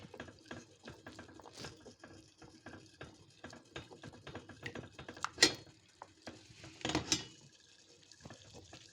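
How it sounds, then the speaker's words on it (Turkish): A spoon scraping and clinking against a pot while melted homemade chocolate mixture is stirred, producing soft irregular scrapes and a few sharper metallic taps, fairly quiet throughout. "Ve bunu karıştırıyorum."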